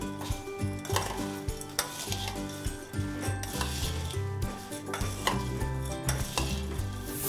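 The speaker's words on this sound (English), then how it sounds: "put it in a large steel dabba, close the lid and just shake it nicely" Poha chivda gets shaken inside a large closed steel dabba with the lid on, producing repeated rattling, swishing bursts of flakes against metal with faint metallic ringing, rhythmic and fairly quiet, no voices.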